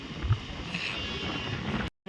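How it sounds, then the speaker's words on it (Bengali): A train pulls out of Shaktigarh station with a steady rumbling, rushing roar and wind buffeting, broken by a brief dropout just before the end. "শক্তিগড় ছেড়ে যাচ্ছে ট্রেন"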